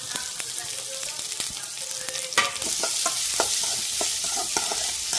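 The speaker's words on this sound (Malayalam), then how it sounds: "ഉള്ളി ഇട്ട് വാട്ടുക." Onion, ginger, garlic and green chili sizzle steadily while sautéing in a pan for a chicken leg mappas curry, with scattered clinks and scrapes of stirring close by and louder frying toward the end.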